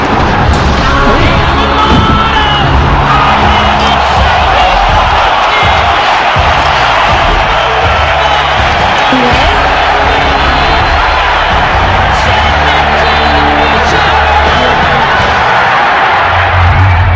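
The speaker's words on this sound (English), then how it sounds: "A blistering knee to the face sent the crowd into a frenzy." A Muay Thai fight crowd roars and cheers after a knee strike to the face, a loud, dense wall of shouting and noise from a packed arena that holds steady throughout.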